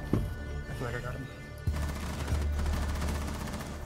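Rapid bursts of gunfire from the video game Rainbow Six Siege crackle loudly in overlapping volleys, with a sharp crack partway through, while players' voices murmur alongside.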